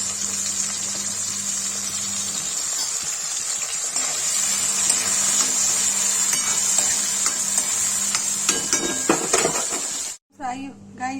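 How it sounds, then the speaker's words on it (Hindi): Mushrooms frying in oil in a pan for a masala mushroom curry, a loud, continuous sizzle with stirring scrapes, ending abruptly as the pan goes quiet and a voice begins speaking. "देखिए मशरूम फ्राई हो गया"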